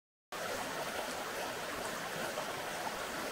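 Highly acidic spring water runs steadily at Devil's Town in Serbia, a continuous hissing wash of flowing water that starts abruptly and holds at an even level, with no voices.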